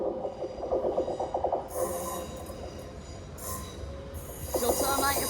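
A train from Crewe arrives at platform 6 at Stafford station, rumbling close by with rhythmic wheel clatter and high metallic squeals from the wheels as it slows.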